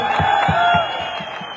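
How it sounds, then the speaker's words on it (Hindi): A crowd at an Aam Aadmi Party political rally in Doda, Jammu and Kashmir, cheers and applauds as a steady, dense roar, with faint rhythmic low thumps beneath that fades slightly toward the end. "इनके लिए भी एक बार जोरदार तालियां हो जाइए।"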